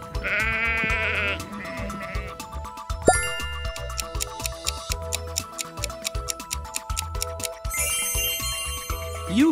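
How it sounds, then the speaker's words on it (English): A sheep bleats in a wavering, repeated cry layered over ringing bell-like chimes and ticking in a children's animal sound guessing game, loud and close with no talking. "Sheep."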